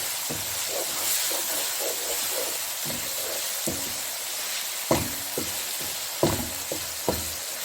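Chicken jalfrezi with black pepper sizzles steadily in a hot pan, a constant frying hiss broken by scraping stirs and clanks from a spoon, close and without talk.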